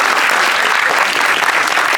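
Loud, sustained applause from an audience at a film trailer launch event fills the room, a dense even clatter of many hands that holds steady throughout with no pauses.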